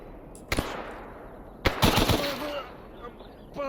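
Gunfire in the Stalker Anomaly shooter game: two separate sharp shots, the second followed by a quick burst of three or four rounds, loud and close, then an electronic tone.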